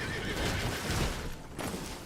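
A horse neighs loudly in Red Dead Redemption 2 while riding along a forest dirt road, a drawn-out whinny over steady ambient game noise.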